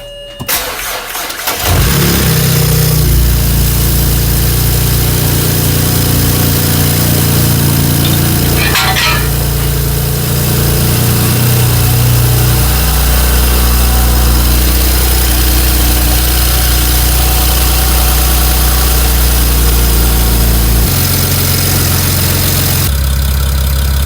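A BMW 335i with an N54 engine and a nearly dead battery cranks and catches, then settles into a loud, steady, rumbling idle close to the listener.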